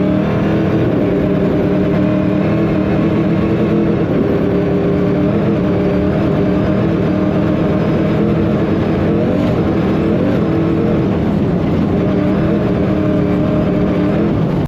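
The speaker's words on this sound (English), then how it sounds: "they've also got one called a CR7, which brings in all-wheel drive with an Audi twin turbo, 500 plus horsepower car" Century Racing CR7 off-road rally car with an all-wheel-drive Audi twin-turbo engine of 500-plus horsepower, heard from on board as a loud, sustained engine roar with rising and falling revs and constant rough road noise.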